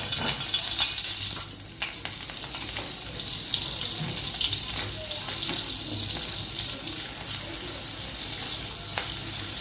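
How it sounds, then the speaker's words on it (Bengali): A cube of butter melting in a little oil in a frying pan, giving a steady close sizzle with faint crackles, a louder burst at the start that then settles into an even hiss. "অন্যদিকে প্যানের মধ্যে যে সামান্য তেল ছিল, তার মধ্যে আমি একটা বাটারের কিউব দিয়ে দেবো।"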